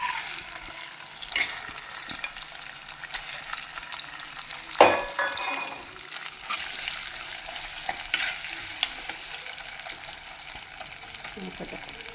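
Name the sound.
grated coconut frying in melted ghee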